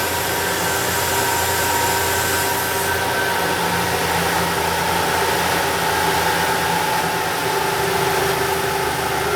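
A Toyota Tacoma V6 engine runs steadily with its brake booster hose unhooked, a constant droning idle with a faint hiss, close and unbroken by talk.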